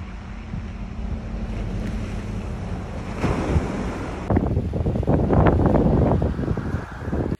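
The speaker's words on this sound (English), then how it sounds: "Sounds like cruise ships." Cruise ships heard from outside as a broad, steady rumble mixed with wind buffeting the microphone, swelling louder in the second half with no speech.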